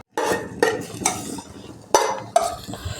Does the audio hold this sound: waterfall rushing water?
no